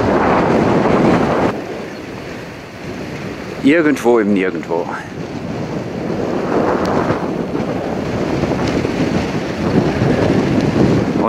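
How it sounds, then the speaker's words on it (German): Gusty wind buffets the microphone on a bike ride along the Römer-Lippe route near Bad Sassendorf, loud rumbling roars that ease off for a moment and then build again, while someone speaks briefly. "Der Wind passt auf jeden Fall dazu."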